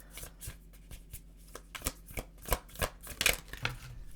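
Tarot cards shuffled and drawn by hand, a series of close, crisp riffling and slapping bursts at irregular intervals, quiet overall with no talk.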